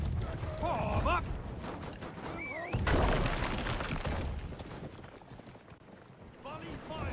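Musket volley fire rings out during a large siege battle in Conqueror's Blade, a broad crackling burst near the middle set amid continuous battle din, shouted in-game commands and clattering noise.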